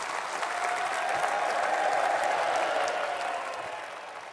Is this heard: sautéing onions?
no